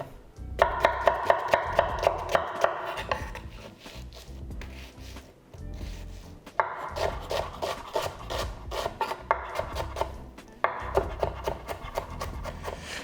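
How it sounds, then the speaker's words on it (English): A knife rasps and taps through onion on a wooden board, repeated quick rhythmic strokes in bursts separated by short pauses, close up with no talk. "I'll show you how to cut onion."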